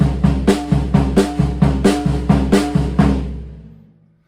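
A drum kit plays a right-left-right-right-left sticking pattern from a Ted Reed independence exercise, with quick, evenly pulsed strokes over a sustained low drum tone, loud and close, then fading out at the end.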